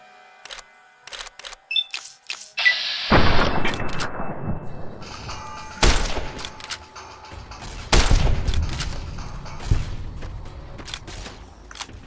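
Fallout: New Vegas gameplay with rapid bursts of gunfire and heavy impacts, loud and close, some sharp single shots followed by longer rumbling volleys and echoes.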